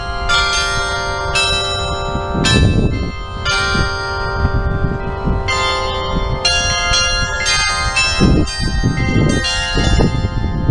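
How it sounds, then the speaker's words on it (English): Many bells ring out together in a loud, melodic sequence in Nashville, overlapping tones chiming on and off with lingering resonance. "This is a place with bells. Bells are playing now."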